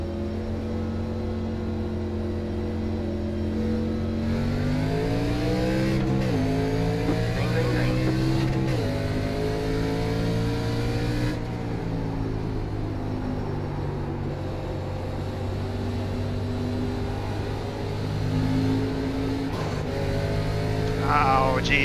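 Race cars in the iRacing game drone and rev continuously, engine tones climbing and dropping through gear changes, with new tire sounds mixed in at a K&N National Series event at Lucas Oil Raceway.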